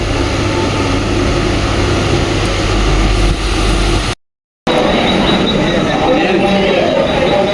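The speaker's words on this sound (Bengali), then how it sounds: "অন্ধকার ট্রেনটা ছাড়বে এবারে" An empty local train at Dadar station in Mumbai starts to move off, giving a loud, continuous low rumble and rattle with a brief dropout partway through. Voices murmur faintly in the carriage.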